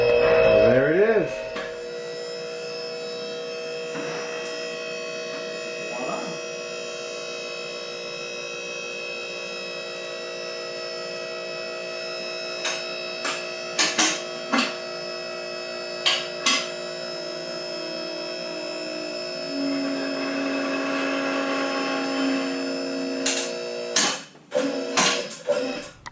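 QuickJack car lift running for a new project car, a steady electric pump motor hum with tonal whine that holds for most of the stretch, with a few sharp clicks near the end; no talking over it.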